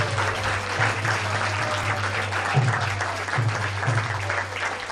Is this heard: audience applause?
yes